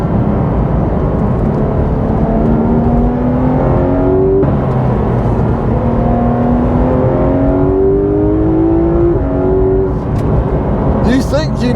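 A Porsche 911 GT3 RS (991.2) engine roars loudly and continuously, its pitch climbing in repeated sweeps as it revs up and accelerates through the gears.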